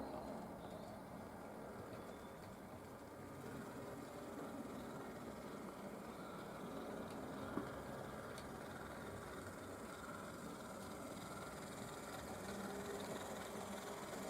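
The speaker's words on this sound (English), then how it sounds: "you can see some of the tank engines in operation" A steady, low mechanical hum of a 00 gauge model railway tank engine running continuously at moderate distance, with faint clicks and rumble but no voices.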